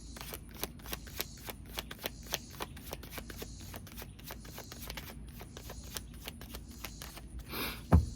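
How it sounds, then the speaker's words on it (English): Tarot cards riffled and shuffled in quick bursts of crisp flicks, close by, with a louder rustle at the end; no talking. "let's shuffle a little more"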